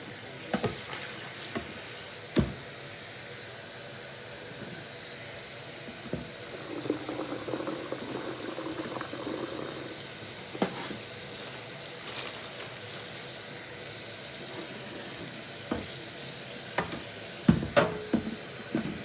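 Vacuum cleaner parts rinsed under pretty warm water, a continuous soft hiss of running water with scattered clunks and knocks as the pieces are handled, steady and close throughout.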